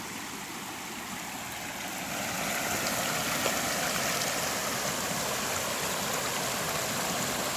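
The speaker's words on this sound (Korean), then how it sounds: "이 자연의 소리, 물소리" A natural stream runs over stepped rock ledges, making a steady broadband rush of water that grows a little louder after the first couple of seconds and then holds constant with no voices.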